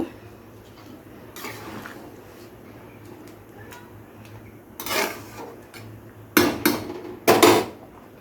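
Rice being stirred in a metal cooking pot, a few separate loud scrapes and clanks of a spoon against the pot over a quiet background, the strongest knocks coming near the end.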